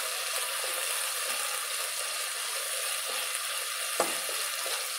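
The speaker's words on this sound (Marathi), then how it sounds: "पाण्यामुळे ते थोडे तडतडले." Washed raisins frying in hot ghee for mutton Kabuli pulao, a soft continuous sizzle with faint crackles and a single sharper pop near the end, steady and close.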